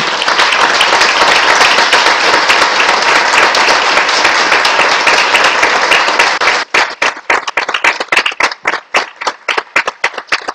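Loud, dense applause from a crowd at a council session, steady for several seconds, then thinning into scattered individual claps before fading out.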